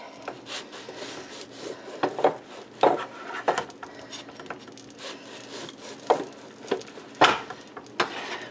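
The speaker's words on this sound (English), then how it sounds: "Now we're just going to start cutting up our bread." Knife sawing through bread while preparing a slow-cooker turkey dinner, irregular rasping strokes with scattered knocks against a board, near and moderately loud.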